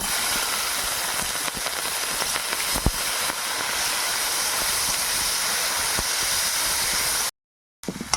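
Whole garam masala, cumin and chopped beans sizzle loudly in hot oil, a dense, continuous hiss with faint ticks and spatters that runs unbroken until a brief silence just before the end.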